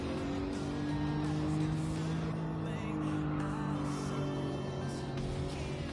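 A car engine in Gran Turismo 7 holds a steady tone and then builds as the accelerator is pressed, heard from the cockpit view. The drone is continuous and fairly loud, with faint game sounds around it and no clear talk.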